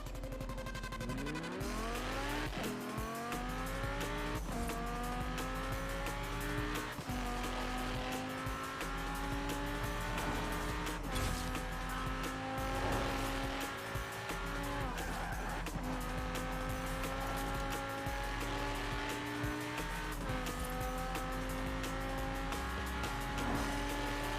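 A video game car accelerates and cruises with a loud, continuous engine whine that climbs through repeated gear shifts, with occasional tire noise and a steady rumbling drone underneath.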